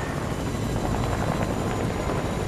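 The Choppa helicopter in Fortnite, a steady dense rotor thrum and engine whine heard continuously and fairly loud, with no voices over it.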